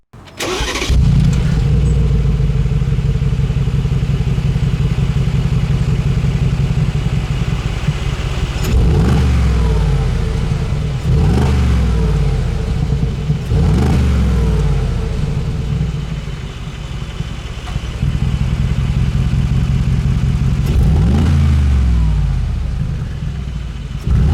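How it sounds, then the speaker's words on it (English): A Mercedes G63 engine fires up and idles with a deep exhaust rumble, then is blipped several times in sharp, loud revs that fall back to idle, in normal then Sport Plus mode. "Let's hear how it sounds, first in normal, then in Sport Plus."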